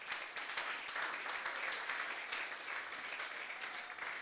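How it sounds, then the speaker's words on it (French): A church congregation applauding during a Sunday service, a steady, fairly faint wash of many hands clapping that continues throughout. "Nous acclamons le Seigneur."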